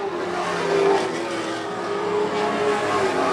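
Late model stock race car at Wood Pellet Warehouse accelerating hard out of turn four, slightly sideways, a loud sustained engine roar whose pitch climbs steadily, close and alone.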